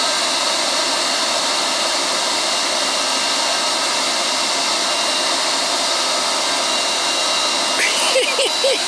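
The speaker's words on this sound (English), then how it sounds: "Vacuum's gonna suck them right up." Vacuum cleaner running steadily as it sucks yellow jacket hornets out of a nest, a loud continuous broadband whine throughout, with a brief change near the end.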